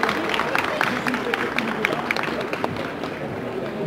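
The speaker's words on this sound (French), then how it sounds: "Alors, on peut applaudir, je pense." An audience applauds the chefs and apprentices at a live cooking competition at a food and wine fair, a dense steady wash of clapping with crowd murmur throughout.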